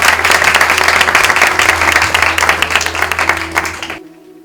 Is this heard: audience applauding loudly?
yes